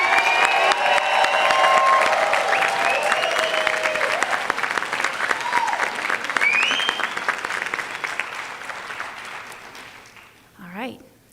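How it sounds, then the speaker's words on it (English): Loud, enthusiastic applause and cheering from a crowd for the graduating class of 2023 at a school graduation, sustained clapping with whoops that gradually tapers off, then a short wavering howl near the end. "please give the graduating class of 2023 one more enthusiastic round of applause and maybe a Pathfinder howl"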